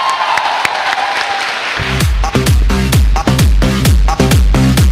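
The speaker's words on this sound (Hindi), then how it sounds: "सेफ शॉप को जोरदार तालियां।" A crowd at a company event applauds and cheers loudly for about two seconds. Then a booming, thumping music beat kicks in and dominates, with clapping still faintly underneath.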